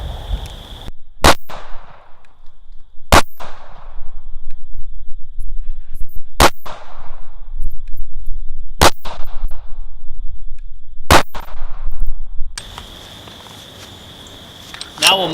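Handgun shots at an outdoor shooting range, six loud sharp reports spaced roughly two seconds apart, each with a short fading echo, followed by a steady high electronic tone.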